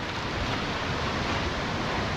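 North Sea waves churning and rolling in against the end of a harbour wall, a steady, dense wash of surf with wind noise, continuous and fairly loud, no voices.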